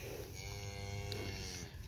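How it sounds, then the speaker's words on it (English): Cattle in a farm herd of cows and young calves moo in a long, steady low call that fills the whole stretch, fairly close and loud with no talk over it. "Boy, some fine looking little calves though,"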